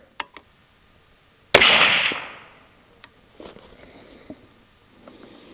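A single sharp, loud rifle report firing Palmetto State Armory 6.5 Grendel ammunition, with a decaying echo, between faint clicks and handling noises on an outdoor range.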